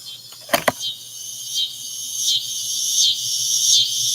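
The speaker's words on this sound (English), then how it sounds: "those are the crickets in the backyard" Steady, dense cricket chirping fills the background, a continuous high trill with pulsing swells, broken early by a couple of sharp knocks close by.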